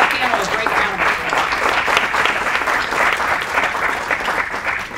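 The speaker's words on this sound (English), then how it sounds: "Give our panel a great round of applause." Audience applause for a panel at the close of a CED panel discussion, a dense, steady wash of many hands clapping for the full five seconds, close and loud, with no talk over it.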